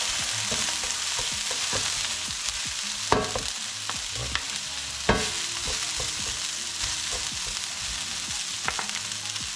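Duck confit frying in a pot while being stirred, a steady close sizzle with scraping stirring knocks and occasional louder clinks throughout.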